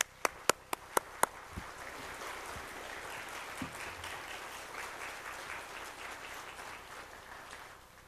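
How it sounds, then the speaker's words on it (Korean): Church congregation applauding to welcome a speaker, broad steady clapping that follows a few sharp isolated claps at the start and slowly fades. "나오실 때 우리 뜨거운 박수로 맞이하겠습니다."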